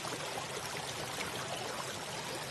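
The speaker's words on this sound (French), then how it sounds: "C'est ce qui produit ce son de l'eau qui tombe sur les pierres." Water tumbling over stone cascades and small weirs along a stream in an urban garden oasis, a steady broadband rush of splashing and pouring that holds constant and fairly loud throughout, with no voices.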